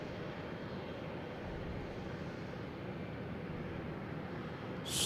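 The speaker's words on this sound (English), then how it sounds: "this is Southwest that flew over us" A Southwest airliner passes overhead near Boston Logan Airport, its steady broadband engine roar holding at a distance for several seconds with no voices.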